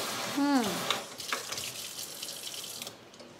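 Water runs from a household hot-and-cold tap into a sink, a steady close hiss beneath a voice speaking over it.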